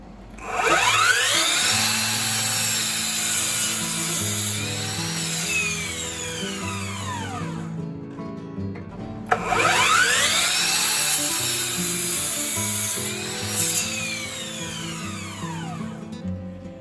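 A power saw, set for a 0-degree cut, slices through wooden boards in two separate passes, each whining up as the blade bites, holding a loud rasping cut for several seconds, then winding down as the motor slows.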